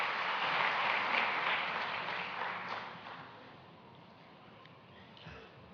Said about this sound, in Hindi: आइए जोरदार तालियों से अभिनंदन करें